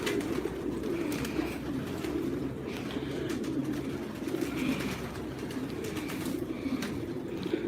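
Pigeons coo steadily in low, soft murmurs, several birds from a flock of about 400 overlapping at a moderate distance amid a constant background hum.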